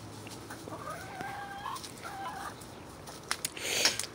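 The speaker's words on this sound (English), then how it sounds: "laced Wyandotte is called Ranger, but it's just one of the noisiest" A laced Wyandotte hen clucks in short, wavering calls at moderate distance in a garden setting, followed by a few sharp high chirps near the end.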